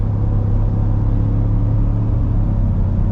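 Low, steady rumble of a 2022 Ford F-150 Black Ops with a 5.0 Coyote V8 while coasting, a constant deep drone with road and tire noise running evenly throughout, no speech.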